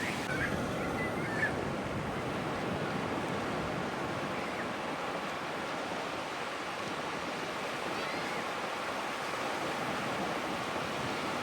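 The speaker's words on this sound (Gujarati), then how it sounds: "એ મોજા આવે છે" A continuous broad roar of surf washes on without pause, steady and fairly loud, with a faint bird call early on.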